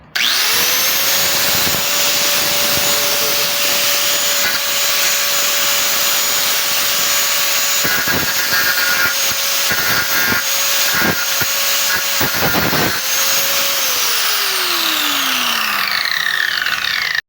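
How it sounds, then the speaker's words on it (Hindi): An angle grinder runs loud and steady against the metal of a washing machine's spin motor, with a sustained whine, several brief dips and cuts as the tool is eased off, and a falling pitch as it spins down near the end. "ग्राइंडर"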